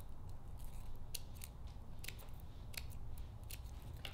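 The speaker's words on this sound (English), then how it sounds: "I'll cut on the folded edge about an eighth of an inch little fringes" Scissors snipping small fringes into the folded edge of crepe paper, a series of quick, faint, close cuts in an irregular rhythm over a low background hum, with no talking.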